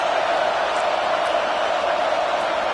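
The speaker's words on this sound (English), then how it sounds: "Big 3rd down as the crowd gets behind this defense." A college football stadium crowd at Oklahoma versus Texas A&M roars steadily behind the defense on third down, a dense, unbroken wall of cheering and noise.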